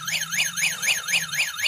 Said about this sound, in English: At least an audible alarm so that people might decide to go in the other direction if they hear that.